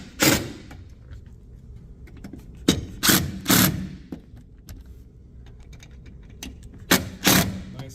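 Metal screws on an LCN 6440 XP door operator bracket are torqued down with a hand tool, giving a few sharp, close clicks and ratcheting bursts spaced across a quiet background, with no talking.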